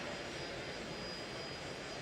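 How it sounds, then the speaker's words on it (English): A jet aircraft takes off at the Monterey Jet Center airfield, giving a steady, broadband roar that holds at an even, moderate loudness for the whole stretch with no voices over it. "just fighting over the jet taking off, which is always a challenge of auctioneering"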